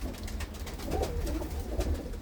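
Pigeons cooing on a rooftop where racing pigeons are kept, a few soft low coos close by over a quiet background, no voices.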